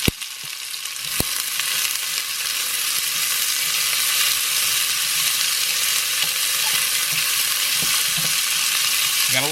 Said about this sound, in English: You gotta love that sizzle. How you know it's cooking.